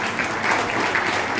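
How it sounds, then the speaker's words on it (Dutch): Workshop audience applause at a green-cities session held by an Almere municipality, a short, dense burst of steady clapping from a group, close and even. "Applaus."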